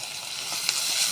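Chopped onions with a little salt frying fast in hot oil with spices for an aloo prawn fry, a bright crackling sizzle, steady and close.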